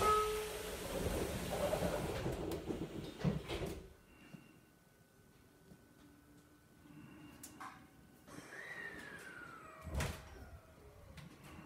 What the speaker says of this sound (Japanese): 閉まります。 ご注意ください。